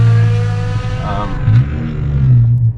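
A straight-piped BMW E60 M5 revs loudly and close, its deep engine note rising and falling in a short burst with a sharp crackle near the end.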